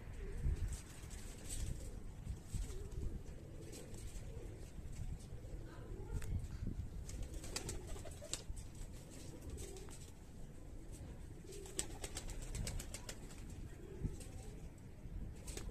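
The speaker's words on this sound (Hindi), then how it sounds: "नस्लें बनाने वाले कबूतर हैं जी सारे" Highflyer breeder pigeons coo in soft, low murmurs throughout, with occasional flutters of wings and faint background noise.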